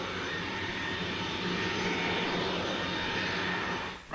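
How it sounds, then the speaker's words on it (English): Aircraft near an airport make a loud, steady, broadband roar that holds evenly for a few seconds, then breaks off abruptly at the end, with no talking. "Airport planners need to consider the noise made by aircraft in the air and on the ground."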